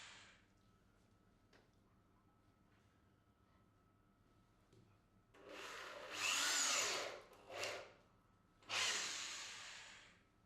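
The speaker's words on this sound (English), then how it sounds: "drill a hole to a depth of 5 mm to accept the faceplate" A drill bites into door timber in two loud bursts after a quiet stretch, boring 5 mm deep holes for a concealed door closer faceplate, whirring and grinding briefly, then stopping between them.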